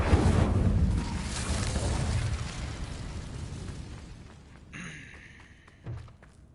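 A fire spell cast in Hogwarts Legacy lets out a loud roaring burst that fades over several seconds, then two softer whooshing thumps follow near the end.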